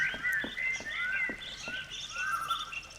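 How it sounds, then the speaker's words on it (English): Loud game birds chirp in a mansion setting in The Sexy Brutale, with busy overlapping tweets and trills repeating steadily, close and prominent over soft background ambience. "Darn, these are some loud birds."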